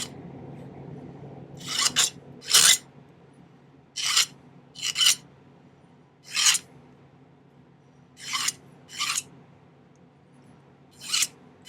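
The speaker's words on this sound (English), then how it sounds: "now I'm just going to take the file and smooth that out until it's about the right size" A metal hand file rasps across a silver ring band for turquoise jewelry, about ten short, loud, close strokes in uneven pairs and singles, separated by brief quiet pauses.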